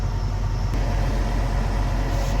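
A truck engine idles with exhaust leaking, a steady, loud, low rumble that continues unbroken from start to finish.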